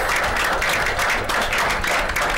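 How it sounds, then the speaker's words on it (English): A show audience gives a round of applause, dense steady clapping that stays loud and continuous throughout with no speech over it. "let's have a round of applause for them"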